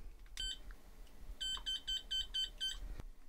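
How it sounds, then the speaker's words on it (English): A small non-contact voltage tester beeps in a rapid series of short, high-pitched pulses, preceded by a single beep, in a quiet room. "The other one made a beeping sound"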